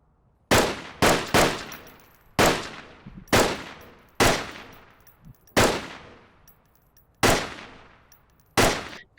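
Volk Marksman rifle firing in a video game: nine or so loud, sharp single shots at irregular intervals, each with a long decaying tail, with no voice.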